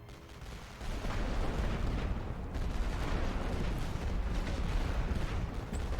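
Artillery barrage in The Great War: Western Front, a continuous rumbling roar of distant shelling and gunfire with a steady, dense texture throughout and no voices.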